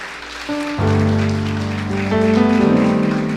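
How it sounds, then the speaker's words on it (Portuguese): A church congregation applauds as a rain-like wash of clapping beneath sustained keyboard or organ chords that shift pitch, steady and moderately loud. "E se for possível, aplauda Jesus porque Ele merece."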